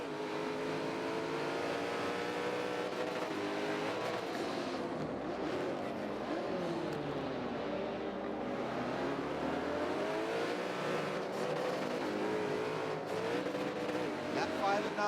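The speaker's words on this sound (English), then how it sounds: "listen in on that incredible twin-turboed engine of Williams Roadrunner's Koenigsegg" A twin-turbo Koenigsegg races at Hockenheim in the Forza racing game, its engine droning and rising and falling in pitch through gear changes under continuous commentary, with tire squeal and other cars passing nearby.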